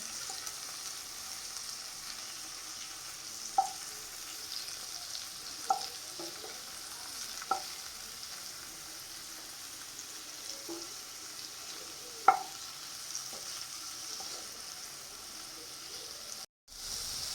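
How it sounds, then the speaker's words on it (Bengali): Prawns frying in a pan make a soft, steady sizzle, with a few sharp clicks of a utensil stirring at scattered moments. "চিংড়িগুলো বেশ লাল লাল ভাজা হয়ে গেছে"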